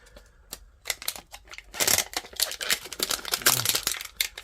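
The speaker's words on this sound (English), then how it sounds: "has a very thick plastic wrap on these individual boxes even, that you have to cut open" Thick plastic wrap being cut and torn open on a boxed card product, giving dense crinkling and scratchy crackles that swell louder midway and keep going in irregular close bursts.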